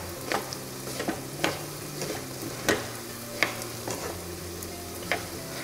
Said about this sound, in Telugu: మీకు కావలిస్తే మొత్తం నెయ్యితోనే వేయించుకోవచ్చు అలా.